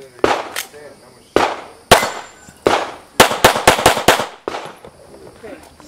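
Pistol shots at an IDPA shooting match ring out in sharp, loud bursts: a few spaced single shots, then a rapid string of five or six, then two more, each with a short outdoor echo.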